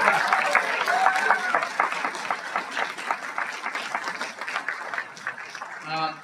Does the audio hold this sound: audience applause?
yes